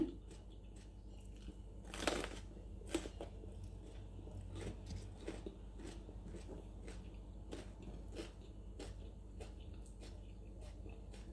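Close, crunchy chewing of a home-cooked Thai chicken stir-fry with rice, with a sharp bite near the start, then a steady run of soft, wet chewing and small crunches.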